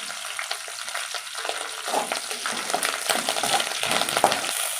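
Cashew chicken fries in a pan with curry leaves, bay leaf and kasuri methi, giving a steady, close sizzle with light scraping stirs and occasional small crackles, and no voices over it.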